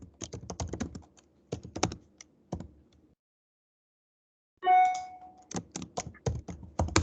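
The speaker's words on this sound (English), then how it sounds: "I'm typing." Rapid, uneven clatter of keys on a computer keyboard, close and fairly clear, in bursts with a short silent pause midway before the typing resumes.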